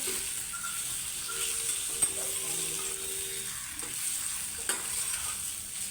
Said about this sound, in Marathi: हे सगळं आता आपण परतवून घेतो. तेलामध्ये